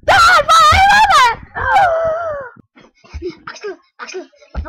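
A person imitates a dog, giving loud wavering howls followed by shorter whimpering yelps, close to the listener with brief pauses between.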